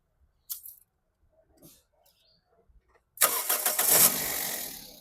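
A 2011 Toyota Etios V petrol car engine cranks and catches after a few faint clicks and bumps, roaring up loudly and then settling into a steady idle close by.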